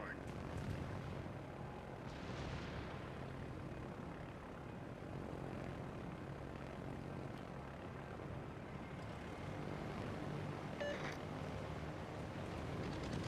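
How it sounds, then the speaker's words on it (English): Fighter planes launched in the naval combat game World of Warships, a steady droning propeller-engine hum over continuous game ambience and rumble, with voices talking faintly underneath. "Let's call in some fighters. Fighter airborne."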